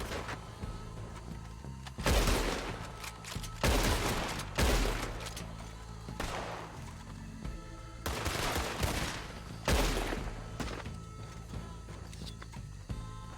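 Repeated bursts of gunfire from a Western shootout in the video game Red Dead Redemption 2, loud sharp shots in clusters every couple of seconds over a steady rumbling game background.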